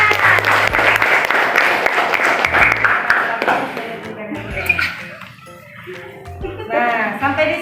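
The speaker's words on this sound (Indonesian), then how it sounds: "tepuk tangannya anak-anak." Children clapping their hands in an Islamic boarding school classroom lesson, a loud burst of close, busy clapping that tapers off midway as a teacher's voice and children's voices take over.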